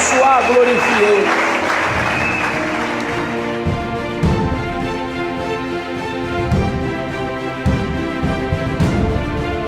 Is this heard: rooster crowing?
no